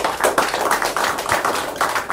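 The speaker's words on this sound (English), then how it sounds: "So give him a round of applause." Steady, fairly quick clapping at an investor meeting, sounding like a small audience applauding together in an indoor room, with evenly spaced claps close by and no talking over them.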